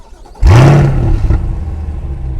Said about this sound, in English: I'm gonna give you guys a quick remote cold start